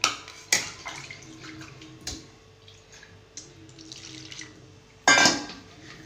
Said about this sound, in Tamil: சாம்பாருக்கு புளி ஊற்றிக்கணும் புளி கரைச்சி தேவையான புளியை நம்ம கரைச்சி ஊற்றிக்கணும்